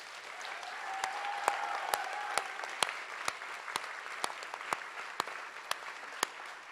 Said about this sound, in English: So can we give just a huge round of applause to all of our contestants?